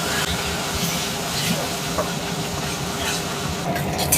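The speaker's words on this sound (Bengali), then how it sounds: "তেল ভালো করে গরম করে নিয়ে মাছগুলোকে কড়া কড়া করে ভেজে নেব।" Radish (mooli) pieces frying in hot oil, giving a steady, close broadband sizzle and hiss that runs continuously throughout without letup.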